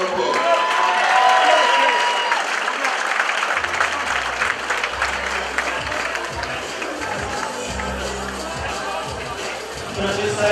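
A boxing crowd at the Kassam Stadium applauds and cheers loudly and continuously, with dense clapping and crowd noise throughout and a low rhythmic thumping and chatter rising beneath it partway through.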